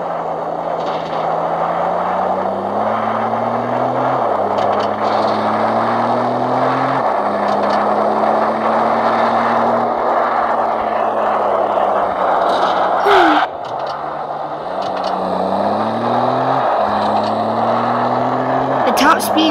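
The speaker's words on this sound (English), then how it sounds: "Listen to that 4-liter V6." A 1996 Toyota Tacoma's 4.0L V6 engine drones steadily throughout, pitch rising and falling as it revs and shifts, loud and close, with a brief knock near the middle.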